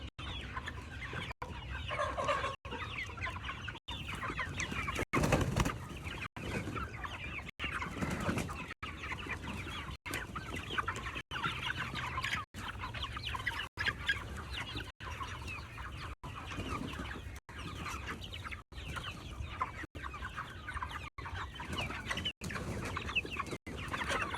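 Cornish Cross meat chickens clucking steadily in a flock, a continuous close chorus of overlapping clucks and murmurs with no talking.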